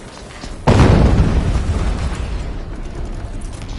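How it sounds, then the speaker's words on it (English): A sudden loud explosion in the video game Horizon Zero Dawn Remastered bursts in with a heavy boom, then a long rumbling decay that stays strong for several seconds. "An explosion."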